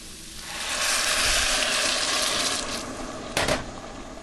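Broth poured into a cooking pot while making orange-scented fruited rice pilaf, a steady splashing pour that swells and then tapers, with a brief sharper splash near the end.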